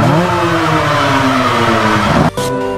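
A Yamaha Y15ZR motorcycle engine in a modded GTA San Andreas game revs loudly and steadily, pitch climbing gradually, then cuts sharply and kicks back up near the end.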